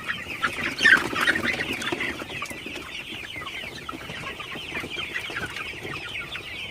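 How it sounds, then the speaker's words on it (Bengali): A flock of golden super hybrid chickens clucks at night in a farm shed after being roused. Continuous overlapping clucks and squawks come from close by, busiest near the start, with no talking. "মুরগিগুলাকে রাতের বেলায় একটু তাড়াই দিই, কারণ মুরগিগুলা রাতের বেলায় কিন্তু একটু বসে থাকে বেশি।"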